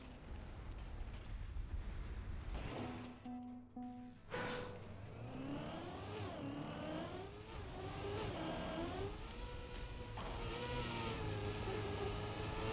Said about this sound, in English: Racing cars just getting closer and closer to the jump.